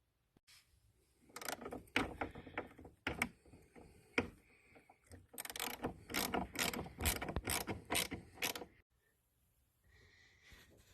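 Quiet mechanical ratcheting and clicking while battery cables on a car are loosened and O-ring cable terminals are screwed on for a battery tender, coming in short bursts and then a quick run of ratchet clicks, close and faint.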